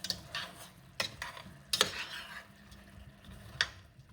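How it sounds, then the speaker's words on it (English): A spoon scrapes and clinks in a pot of apple pie filling as sugar and cinnamon are stirred in, giving a few distinct metallic taps with softer swishing between them, fairly quiet and with no talking. "So we're just going to give that all a good stir."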